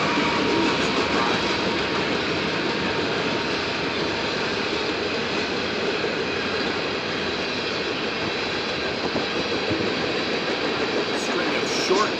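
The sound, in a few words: CSX freight train rolling past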